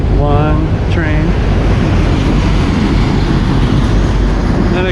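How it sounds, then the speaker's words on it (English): A long car carrier freight train rumbling past nearby in Bowling Green, Kentucky, a dense continuous roar of wheels and wind with a couple of brief squeals, no break in the noise. "This looks like a car carrier freight train."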